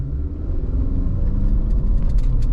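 A 2023 Honda CR-V in snow mode launches flat out from a standstill, its engine and road noise forming a loud, steady, dense rumble that swells slightly as it pulls away, with no talking.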